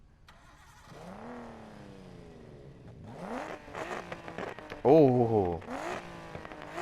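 Nissan Skyline R32 grip build in Need for Speed 2015 idles and revs with rising harmonic engine sweeps, then surges louder toward the end, while someone talks over it.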